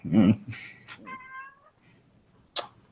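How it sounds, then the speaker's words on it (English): A cat gives a few short, close meows in quick succession, with people talking around it in a room. "Cat."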